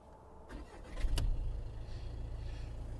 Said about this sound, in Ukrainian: заведу двигун і буду далі робити огляд